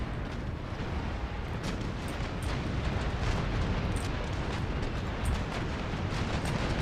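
Naval cannons firing round shot in Empire Total War, heard as a continuous heavy rumble of booming broadside fire with scattered sharper cracks, loud and sustained throughout.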